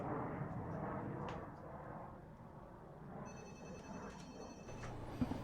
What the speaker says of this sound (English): phone's ringing in the background there